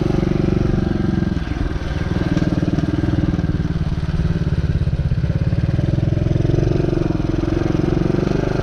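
A dirt bike engine revs hard for a jump, a loud, close, throbbing drone that stays strong and even throughout, with a brief dip early on.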